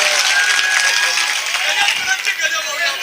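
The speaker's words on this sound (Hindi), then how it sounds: "जोरदार तालियों के साथ भाई, वाह" An audience claps and cheers in a dense, sustained burst of applause at an evening comedy gathering, with a voice speaking over the crowd noise.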